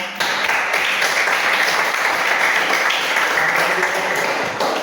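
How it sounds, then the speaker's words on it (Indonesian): Steady applause from a classroom group of students and teachers during a school presentation, continuous and dense for the full length at even loudness, with no talk over it. "tepuk tangan dulu semua"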